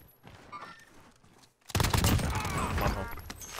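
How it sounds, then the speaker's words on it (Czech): Heavy gunfire in the Call of Duty: Warzone video game bursts in suddenly after a quieter stretch, with dense rapid automatic shots continuing loudly to the end. "Střílí."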